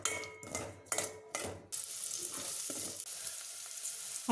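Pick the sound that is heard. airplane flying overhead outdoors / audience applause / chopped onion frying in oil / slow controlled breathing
chopped onion frying in oil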